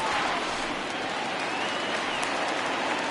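A baseball stadium crowd in MLB The Show 20 applauds and cheers in a dense, continuous roar throughout, loud and steady.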